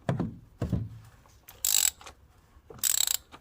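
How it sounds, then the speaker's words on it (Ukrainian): A wrench ratchets in two short bursts of clicking while tightening a plastic oil filter housing on a 1.6 turbo Mini Countryman, with soft knocks and handling between them. "ось так зажимаємо і трішки ключиком підтягуємо"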